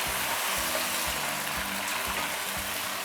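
Chicken browning in a hot pan for masala pulao with sliced tomato, a steady close sizzle and hiss with faint stirring knocks, continuous and even throughout.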